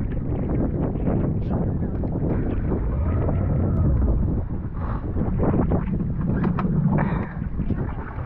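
Speedboat ride on the Alleppey backwaters in Kerala, with a steady roaring engine and rushing water mixed with heavy wind buffeting the microphone, loud and continuous, with faint voices underneath.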